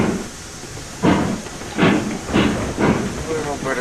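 Steam locomotive in the Railroads Online game pulling away, four rhythmic chuffs of exhaust steam growing steadily over a constant hiss, close and fairly loud.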